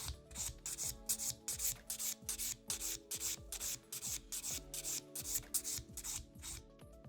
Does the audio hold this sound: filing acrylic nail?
yes